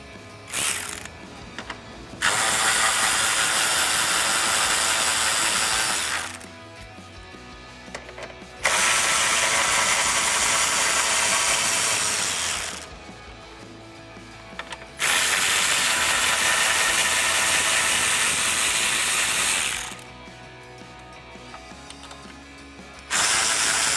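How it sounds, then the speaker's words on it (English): A 10mm socket on a hand ratchet backs out grille bolts on a 2009-2018 RAM 1500, giving bursts of rapid clicking pawl ratcheting, each lasting several seconds, separated by short pauses, close and loud with no talk. "So I'll use my 10mm socket on a ratchet and pull those out."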